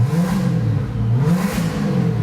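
A Corvette engine being revved by hand in a garage, rising and falling in a few close, loud revs with a rough, throaty drone throughout and no talking.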